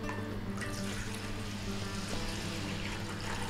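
Water pours in a steady trickle into a soap-making mixture of distilled water and caustic soda, a continuous soft splashing stream with a low background hum and no speech.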